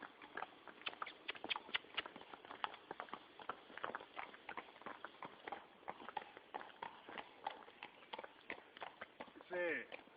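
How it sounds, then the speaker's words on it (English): Horse caught in a fence, hooves clattering and scuffling in a rapid irregular patter heard from a distance, with faint voices talking nearby. "Ese caballo se atrapó en la reja."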